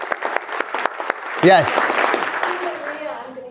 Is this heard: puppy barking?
no